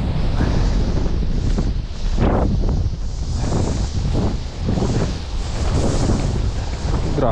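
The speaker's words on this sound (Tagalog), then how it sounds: "Grabe, sumisipol yung ano, hangin." Strong gusting wind roars and whistles across an open sea aboard a small fishing boat, buffeting the microphone in loud surges with brief lulls between gusts.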